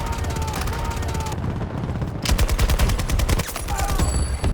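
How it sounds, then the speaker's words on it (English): LCMG light machine gun in a Battlefield Hazard Zone trailer firing long rapid automatic bursts, loud and close, with a brief pause and a booming background mixed in. "the LCMG seems to fire way faster in this clip than in multiplayer"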